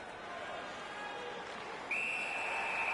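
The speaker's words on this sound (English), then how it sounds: "Puck covered, whistle blown." In an ice hockey video game, a referee's whistle gives one sustained shrill blast near the end, over a steady arena crowd murmur.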